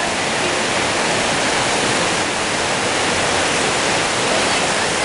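Naramata Creek rushes loudly and steadily over large rocks along a hiking trail, a dense, unbroken roar of white water close by with no voices.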